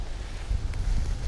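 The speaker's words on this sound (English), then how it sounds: "That's super windy" Low, rumbling wind buffets the microphone in steady gusts, with no clear voices.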